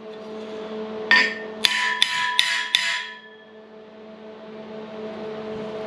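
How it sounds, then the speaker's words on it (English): A hammer smacks a TIG weld on a steel ute tray end cap for a Toyota Landcruiser tow rig, five sharp ringing metallic blows in quick succession, close and loud over a humming background. "just smacking where that weld is, because that TIG weld will shrink up"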